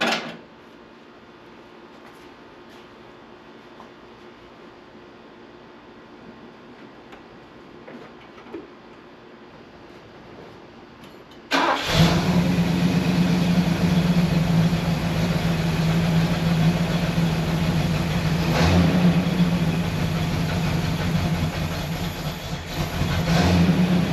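A 1973 Ford Thunderbird engine catches about halfway through after a quiet stretch, then settles into a steady, loud, close idle with a low rumble that holds to the end.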